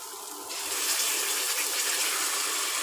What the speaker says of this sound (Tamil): மிக்சி கழுவி ஒரு முக்கால் டம்ளர் தண்ணி ஊற்றிக்கலாம்